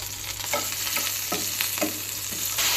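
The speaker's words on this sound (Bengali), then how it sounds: "দিয়ে দিচ্ছি তেল পেঁয়াজ কুচি ছোট করে রাখা রসুন সামান্য কয়েক টুকরো মরিচ" Chopped onion, garlic and a few pieces of chilli fry in oil with a constant sizzle and rhythmic stirring scrapes of a spatula, close and unaccompanied by speech.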